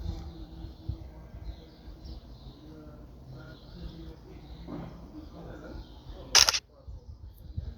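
A camera shutter fires once while a document is photographed, a single brief, sharp click standing out near the end over faint room noise and a quiet voice.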